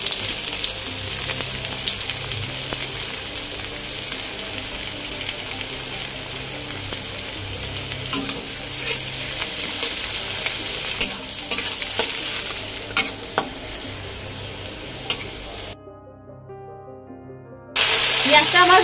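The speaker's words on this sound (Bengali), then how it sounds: "পেঁয়াজটা আমার ভাজা হয়ে গেছে" Chopped onion with a bay leaf fries in oil in a pan, with a steady close sizzle and intermittent scraping from stirring throughout; the sound cuts out briefly near the end before returning.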